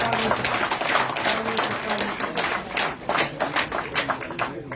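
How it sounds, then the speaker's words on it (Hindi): An audience at a J&K BJP felicitation ceremony claps to welcome an honoured guest, with loud, fairly distinct hand claps in a busy, uneven rhythm that swells and dips. "तालियों से स्वागत।"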